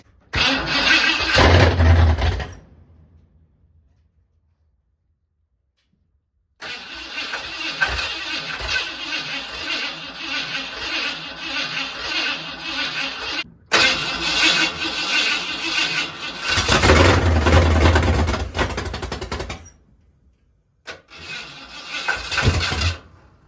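A 351 Windsor V8 swapped into a bullnose Ford truck cranks and tries to fire in several loud bursts of starter churning and rough engine noise, separated by silent pauses.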